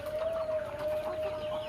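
Laying hens cluck in a coop, a soft continuous chorus of fowl chatter with a faint steady whine behind it.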